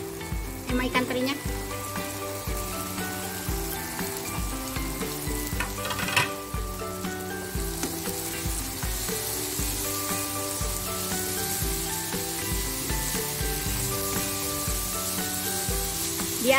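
Tempeh and salted anchovies fry in a pan with a steady, dense sizzle and crackle, stirred with occasional scrapes and knocks over background music.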